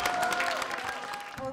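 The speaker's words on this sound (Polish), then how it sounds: "Grupa Agnieszki Durki, wielkie, wielkie brawa" An audience applauds a performing group at a live event, with a steady burst of clapping running the whole moment over a sustained musical tone.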